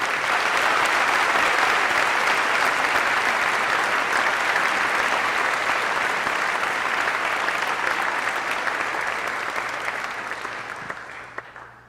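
Steady, loud applause from a lecture audience welcoming Ambassador Crocker to a Reiff Center talk at Christopher Newport, sustained throughout before slowly tapering off at the end.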